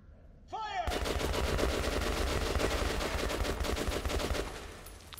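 Soldiers in the video game Metro Last Light open fire in a loud, sustained burst of rapid gunfire lasting several seconds, preceded by a brief whooshing effect and then fading out.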